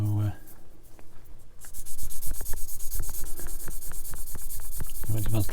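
Steady rhythmic scraping of sanding against a small hard plastic part of a 1/24 scale Tamiya Ferrari LaFerrari model kit, close and continuous, with a person talking over it.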